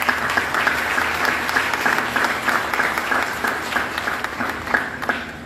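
A church congregation applauding during a Mass celebrating a tenth anniversary, steady dense clapping from a large crowd sustained throughout, fairly close and loud.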